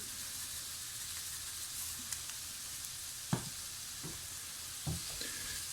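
Onions frying in a pot with a pinch of salt give a soft, steady sizzle, joined by a few scattered scrapes and knocks of a spoon stirring, heard close and fairly quiet with no voices.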